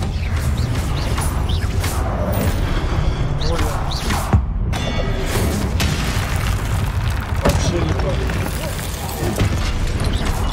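Spell blasts from the wizarding action game Hogwarts Legacy go off in a dense, loud barrage of booms, bursts and whooshes during a combat trial. The noise is nearly continuous, with a voice heard faintly underneath at times.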